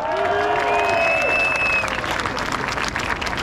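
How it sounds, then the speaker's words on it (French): Applause from a crowd at an outdoor political rally on a Paris square, a dense patter of clapping that fades over a few seconds, with a brief whistle or cheer near the start. "Je vous plie de l'écouter et de l'applaudir, Monsieur Philippe Berlin."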